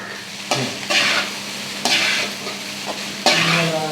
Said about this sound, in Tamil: கொஞ்சோண்டு கடலப்பருப்பு காந்திட்டு தேங்காவை நல்லா வதக்குனாதான் தான் வந்து அது சீக்கிரம் வீணாக போகாது